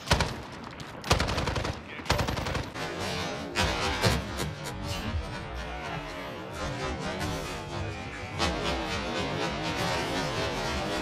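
Gunfire from the Al Rukh AUG with white light tracers in a Call of Duty: Modern Warfare deathmatch: loud, rapid automatic bursts that begin with separate heavy shots and then turn into sustained dense firing.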